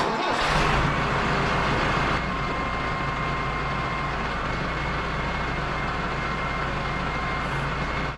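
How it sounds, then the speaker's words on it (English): A Mahindra 511B backhoe tractor's diesel engine runs steadily after a brief louder start, a continuous close rumble with no talk. "I'm going to start up the tractor and we're going to retract that cylinder"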